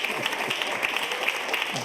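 Audience at a mixed choir event applauds with steady, dense clapping from many hands, heard at moderate distance without pause.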